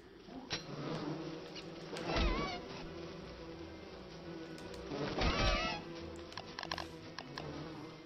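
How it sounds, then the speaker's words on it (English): Killer bees buzzing in the survival video game Don't Starve, a faint, wavering insect drone with a few louder swells and small scattered clicks of game sounds. "That's a killer bee."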